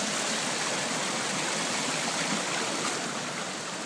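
Winter stream water funnels around a rock in a steady, close rushing wash, with a continuous broadband roar that holds even throughout, no voices present.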